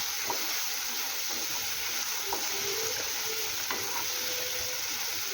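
Two vegetables frying lightly in a pan for a wheat flour dhirde batter, a soft, steady sizzle with faint stirring ticks throughout, close by and without talk.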